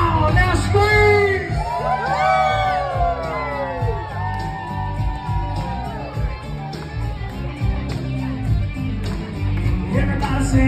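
A concert crowd screams, whoops and cheers loudly and continuously during a cover of a song, with sustained yells over music.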